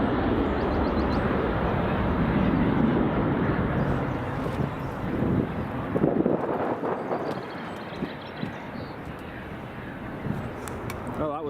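An Airbus A340 takes off at Edinburgh Airport, a loud, broad jet roar that holds steady and then slowly eases as the aircraft climbs away.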